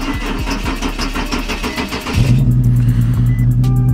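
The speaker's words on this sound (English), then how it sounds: "it took a second for the engine to crank up" A Nissan 370Z cranks on a cold night with a rhythmic starter churn for about two seconds, then catches and settles into a loud, steady idle close by.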